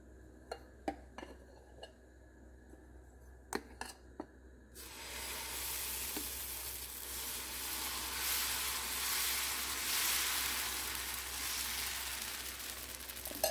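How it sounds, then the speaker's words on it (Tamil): Dosa batter hitting a hot pan, opening with a few clinks of utensils before a loud, steady sizzle takes over and continues to the end. "இப்போ தோசையை ஊற்றிடுவோம்."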